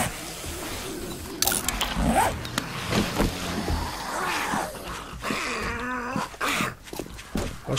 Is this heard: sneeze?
no